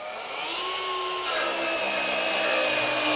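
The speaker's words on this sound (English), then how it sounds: "working with an 18 volt machine with a brushless motor, we can cut 50mm construction material with no problem whatsoever" A Festool HKC 55 18-volt brushless cordless track saw on a guide rail cuts through 50mm construction timber, its motor whine rising sharply in pitch and loudness as the blade bites, close and without talk.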